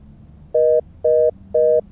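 Three evenly spaced electronic telephone tones sound when a disconnected call is redialed, each a short steady beep with pauses between, clear and prominent over faint background hiss.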